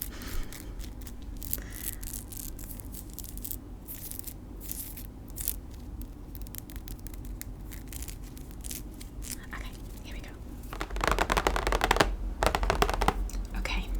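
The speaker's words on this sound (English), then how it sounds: "we can sort the cards together" Jumbo playing cards are handled and sorted on a small white table, giving soft close-up shuffling, sliding and tapping rustles throughout, with a denser, louder burst of card handling near the end.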